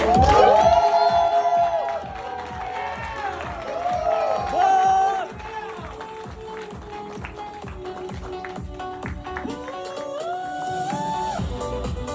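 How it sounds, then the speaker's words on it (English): An audience at a Primeverse corporate event in Calgary applauds and cheers for a speaker, with rhythmic clapping, whoops and shouts over background music, loud at first and then easing slightly. "Guys, let's give him a really big round of applause"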